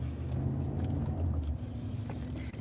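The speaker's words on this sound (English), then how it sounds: "They drew up those little cars that's got those loud fucking things on them." Loud small cars with noisy modified exhausts circling nearby, a steady low engine rumble holding close and constant throughout with no pauses.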